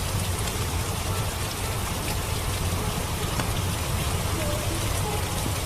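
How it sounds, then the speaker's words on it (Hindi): Steady rain pours down in a cartoon story scene, a dense, even hiss of drops on surfaces that holds constant throughout with no voices over it. "बाबा, बारिश अभी भी नहीं रुकी।"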